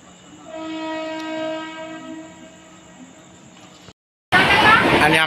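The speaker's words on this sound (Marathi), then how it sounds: "समोरून ट्रेन येते चर्चगेटसाठी" A local train pulling into Jogeshwari station, heard as a steady rail rumble with a loud horn-like tonal blast, then a brief cut and a burst of louder broadband noise near the end.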